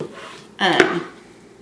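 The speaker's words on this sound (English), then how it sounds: "I'm just going to continue cutting" A single knife stroke slicing through a sausage and cream cheese pinwheel roll on a cutting board, a short close thud and scrape over quiet kitchen background.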